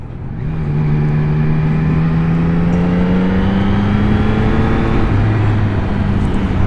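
A 2021 Yamaha MT-09 SP motorcycle accelerating hard from low revs, close and loud, its engine note climbing steadily with brief drops at each quickshifter gear change.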